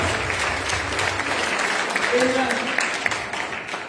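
A church congregation claps together through a sustained round of applause, while a voice speaks briefly over the clapping.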